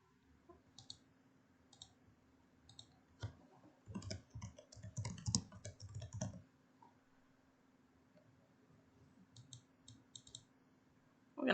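Keys tapped on a computer keyboard while a file name is entered, a quick cluster of close, crisp clicks over a faint steady hum, with a few lighter taps before and after and no talking.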